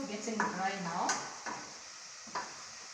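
Rice being stirred in a cooking pot gives a soft scraping and light sizzle, close and fairly quiet, with a few brief clinks of a utensil against the pot.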